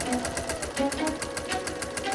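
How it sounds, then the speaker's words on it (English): A sewing machine runs steadily at close range, its needle mechanism pattering in a fast, even rhythm throughout with no pause. "There was Jamie's sewing machine."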